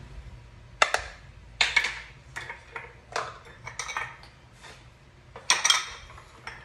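Flour and cornstarch shaken through a metal sieve into a bowl in a home kitchen, a series of sharp scraping, tapping rattles in irregular bursts, close and moderately loud, with no talking.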